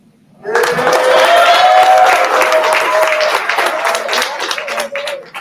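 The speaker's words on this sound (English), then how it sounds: "Please give a big round of applause for Nora N." An audience claps steadily for a performer at a live YPL competition in Hampton Roads, a dense, sustained round of applause starting abruptly and holding loud, with a few shouts or whoops riding over it before it tapers slightly.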